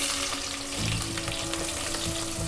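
Sliced onions, cut thin and long for a Telugu poha mixture, sizzle steadily in hot oil, a dense continuous frying hiss with faint stirring scrapes, close and alone.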